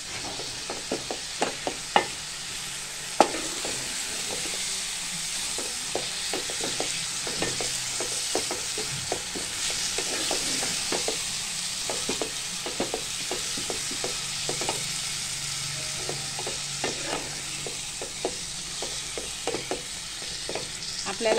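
Tomato paste sizzling softly in masala for chicken keema, a low steady fry with frequent sharp taps and scrapes of a spoon stirring against the pan.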